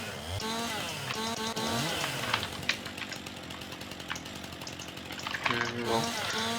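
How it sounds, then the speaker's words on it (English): A chainsaw cuts white birch in Farming Simulator 19, its engine revving loudly and steadily with the pitch sweeping up and down throughout. "So sorry if this chainsaw is a bit loud,"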